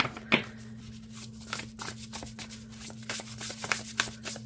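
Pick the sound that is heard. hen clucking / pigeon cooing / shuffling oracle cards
shuffling oracle cards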